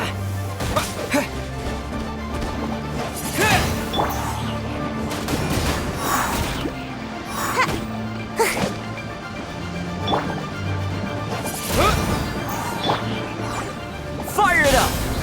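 Sharp whacks and crashes of a Wind Blade attack striking slimes in Genshin Impact land in an irregular series of close, punchy hits, layered over in-game character voices and steady background music.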